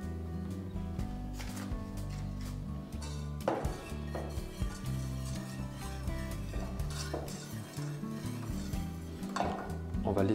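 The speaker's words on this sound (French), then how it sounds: "La deuxième étape, on va mélanger la levure pâtissière aux 2 œufs." Utensil mixing baking powder into two eggs in a bowl for a quick chocolate cake, with continuous close scraping and clinking strokes of varying intensity and occasional faint sizzle-like hiss beneath.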